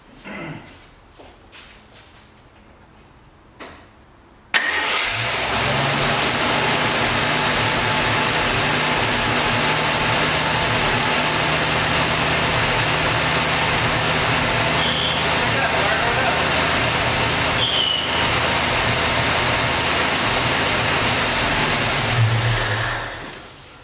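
A 1972 Jeep Commando engine, abandoned after nearly ten years, cranks and fires up abruptly, then holds a loud, steady, rough idle close by for about twenty seconds.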